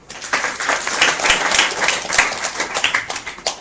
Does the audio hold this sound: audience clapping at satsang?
yes